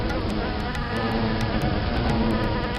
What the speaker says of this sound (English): One remaining bee, tempted by the scent of a jasmine, hovered and wandered in the air.